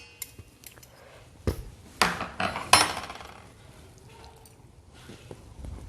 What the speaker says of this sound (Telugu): ఇప్పుడు మనం ఇది అంతా కలిసి మిక్సింగ్ బౌల్ వేసి కలుపుకోవాలి